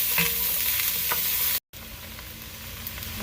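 Onions frying and caramelizing in a Dutch oven for Chicago-style Italian beef, a steady close sizzle with light stirring taps, broken by a brief moment of silence midway before resuming.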